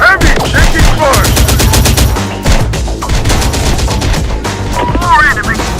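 Sustained automatic gunfire in the action game Terminator Dark Fate Defiance, loud and rapid with dense overlapping bursts, with voices shouting in the middle of the battle.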